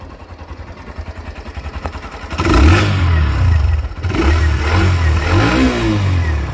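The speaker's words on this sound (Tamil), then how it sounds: "இன்டெகிரேட்டடான ஸ்டார்ட் பட்டன், ஸ்டார்ட் பண்ணி பார்த்துருவோம்" A 2026 Hero Glamour X 125 motorcycle is started with its integrated start button, the engine catching after a brief crank and settling into a steady idle before being revved up, loud and close.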